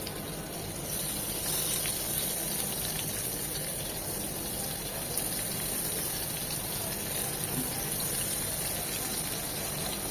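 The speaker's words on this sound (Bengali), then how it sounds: "একইভাবে ওই বেগুনগুলো ভেজে নেব।" Eggplants fry in hot oil for a Bengali eggplant bharta, a dense, steady sizzle that fills the whole stretch without pause.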